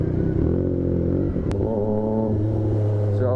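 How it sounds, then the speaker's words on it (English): A Triumph Street Triple 765 RS motorcycle engine winding down on deceleration, a close, loud run of falling engine tones that settle into a steadier lower drone, with no talking. "Oh, right there, that decel, that sound, that vibration."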